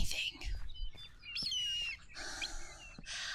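Birds chirp with short, bright tweets and trills, mixed with a few rustling bursts and soft taps. The sound is close and fairly quiet, and a voice is faintly heard in places.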